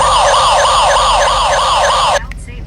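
A wailing ambulance-style siren sound effect plays loud and close, its rising and falling sweep repeating steadily, then cuts off abruptly near the end.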